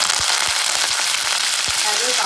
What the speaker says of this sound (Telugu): జీలకర్ర కరివేపాకు వేసుకొని పచ్చిమిర్చి పచ్చిమిర్చి కూడా మంచిగా వేయించుకోవాలి